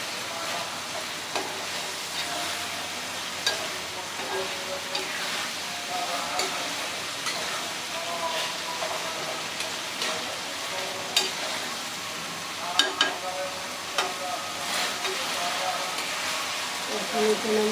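Chowmein with chicken, cauliflower and egg is stirred and fried in a pan, giving a steady broad sizzle with scraping and clattering as it is mixed, while a voice speaks at times over it.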